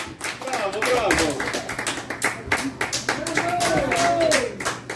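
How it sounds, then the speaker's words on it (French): A cabaret audience claps at a Halloween show, dense, loud applause filling the room throughout, with a voice talking over it. "Bonne belle applaudissement pour Codeswear!"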